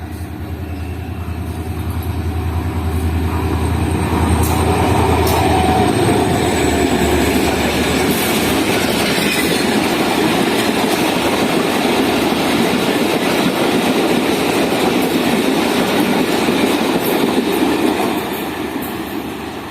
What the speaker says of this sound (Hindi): ये आ रही है 149 अप मेहरान एक्सप्रेस, जो कि हमारी आज की सेकंड ट्रेन है।